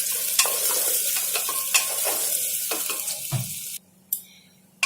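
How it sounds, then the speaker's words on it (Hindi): Onions sizzle and fry in a pan while a spoon stirs them, a steady crackling hiss with repeated scraping strokes close by, before the sound drops away near the end. "और प्याज को हमें सुनहरा करना है"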